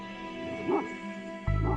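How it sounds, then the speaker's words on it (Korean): Bankhar, a Mongolian guard dog, giving a brief whimpering yip and then a louder bark-like burst at the end, over a steady background hum. "수상한 움직임을 느끼면 큰 소리로 짖어 경계한다."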